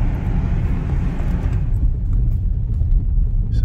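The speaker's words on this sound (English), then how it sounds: "We've got a nice bit of dirt road here, and the car is driving well." A 2012 Ford Focus Titanium on a dirt road heard from inside the cabin: steady low engine and road rumble with gritty tyre noise, loud and continuous, with no voices.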